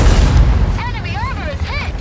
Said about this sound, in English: Enemy armor is hit.